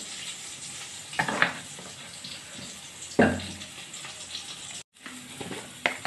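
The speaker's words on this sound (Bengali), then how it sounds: "কড়াইতে দিয়ে দিচ্ছি অল্প সরষের তেল" Mustard oil poured into a wok and sizzling, a steady broadband hiss with a few louder splashy bursts, including one at about the one-quarter point and a stronger one midway, then a brief drop before the hiss resumes.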